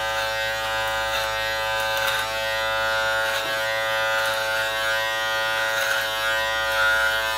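Electric beard trimmer fitted with a 6 mm guard runs through a beard, a steady close buzzing hum holding for several seconds with slight shifts in tone as it moves over the hair.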